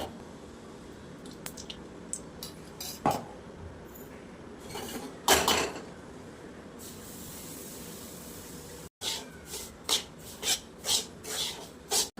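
Semolina being stirred and roasted in a pan for rava laddoos: a scraping, rasping rub with a soft hiss underneath, ending in a run of quick, rhythmic scrapes.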